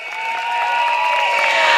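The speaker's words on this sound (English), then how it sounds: "Let's give them all a round of applause." Crowd applause and cheering at a PAP campaign rally in Sengkang, a dense, steady wash of clapping rising slightly in loudness, with tonal music or a sustained hum running underneath.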